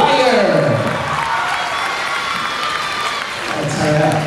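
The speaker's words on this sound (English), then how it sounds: "Let's give them another round of applause, gang." Audience applause and cheering for a choir at a high school Black History program, a loud crowd roar filling the whole moment, swelling again near the end, with a voice faintly over it.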